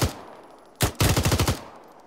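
A machine gun fires in a military shooter game: one sharp shot, then a rapid burst of about eight evenly spaced rounds, loud and close, with no talking.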